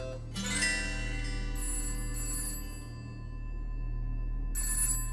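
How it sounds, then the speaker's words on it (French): An electronic ringtone chimes in repeated bursts with brief gaps, over a steady low hum, fairly close and clear. "Mais alors son téléphone sonna"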